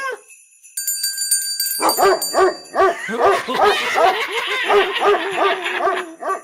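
A dog monster in a tabletop role-playing game barks in a rapid, loud run of repeated yaps lasting several seconds, right after a brief high chime-like tone.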